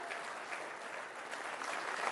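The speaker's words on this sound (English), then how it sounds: "A warm round of applause, guys, for the good doctor." An audience at a health talk on heart attacks gives the visiting doctor a round of applause, a soft, even wash of many hands clapping, faint and distant throughout.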